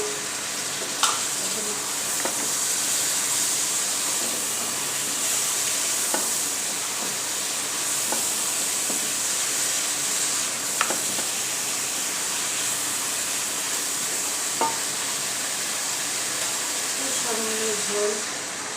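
Eggplant and potato curry frying in a pan after garlic paste, a constant loud hiss of sizzling oil with occasional soft clinks of stirring, and a brief voice near the end.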